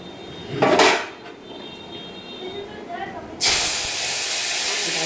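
Hot tempering added to dal in a pan, a short loud hiss near the start, then a sudden sustained sizzling hiss that carries on to the end.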